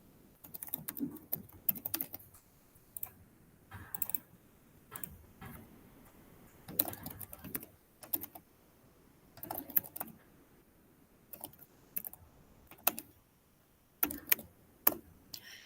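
A computer keyboard is tapped while a shell command is entered, producing scattered, quiet clicks in short bursts with gaps between them. Close and faint, with no voices.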